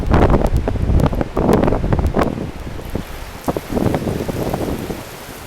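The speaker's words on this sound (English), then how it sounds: "Oh my god, look at that rain. Wow, it's really raining." A heavy rainstorm with wind sweeps in, its dense patter and gusty buffeting loud at first and then easing slightly, with no voices.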